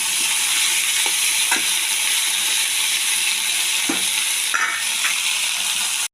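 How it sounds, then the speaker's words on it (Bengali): Tomato sautés over low heat in a pan for a mixed vegetable curry with lentil dumplings, giving a steady close sizzle with a few soft stirring scrapes, then cutting off abruptly at the end. "এবার এটাকে ভালো করে কষবো, কম আঁচ করে করে একটু কষিয়ে ঢাকা দিয়ে"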